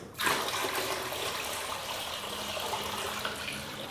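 Water pours steadily into a plastic injection-molded bucket, about three gallons in all, as one continuous gushing splash heard close with no talk over it.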